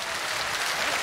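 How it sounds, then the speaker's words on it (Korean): Dense, even applause from a large outdoor crowd at a televised singing contest in a riverside park, a continuous wash of clapping with no voices over it. "다음 분에게 또 박수 주시기 바랍니다."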